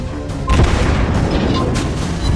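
A deep booming explosion as a ship is destroyed by a torpedo in the World of Warships mobile naval battle game, loud and rumbling, with a sharp onset followed by sustained low roar.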